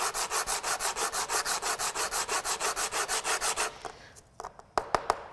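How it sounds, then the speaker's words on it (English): Rhythmic back-and-forth scrubbing of bicycle hydraulic brake pads face down against an abrasive surface, steady rapid strokes for several seconds, then a few scattered knocks and taps, close and loud with no talking. "Have the pad face down. You're gonna wanna scrub them."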